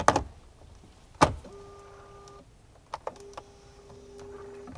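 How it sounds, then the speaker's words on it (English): A motorized rear armrest piece in a Mercedes-Benz EQS SUV lifting up with a steady electric whir, two short motor runs heard close and quiet in a still cabin, with faint clicks around them. "this thing is motorized in power that it lifts up"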